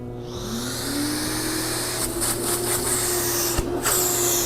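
A Festool CT26 dust extractor motor spins up and settles into a steady, smooth whir, with brief shifts in pitch as it runs close by.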